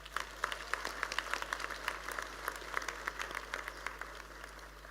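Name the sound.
graduation ceremony audience applause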